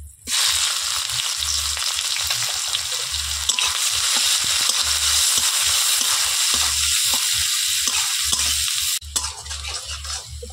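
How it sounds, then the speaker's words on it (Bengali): Chopped onion frying in oil in a kadai over a tempering of dried red chillies, whole garam masala and a bay leaf, a steady loud sizzle with rhythmic low stirring thumps, ending slightly quieter near the close. "ফোড়নটা ভাজা হলে দিচ্ছি কুচনো পেঁয়াজ,"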